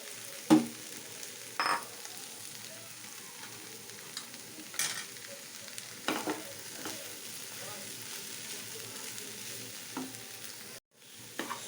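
Soybean chunks and paneer fry quietly in a pan over a raised flame, a low steady sizzle broken by a few sharp scrapes and clicks from stirring.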